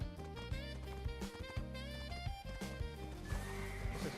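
A horse whinnies in the video game Black Desert Online amid layered game music and ambience, the neigh rising and falling over steady background tones.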